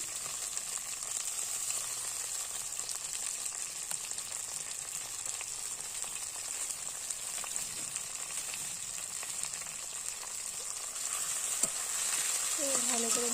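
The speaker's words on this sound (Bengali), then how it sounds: "টমেটো আদা মশলাগুলো একসাথে ভেজে নিয়ে যাবো" Tomato, ginger paste and spices fry in a pan with a steady, loud sizzle that holds for the whole stretch, under occasional faint stirring scrapes, with no talk.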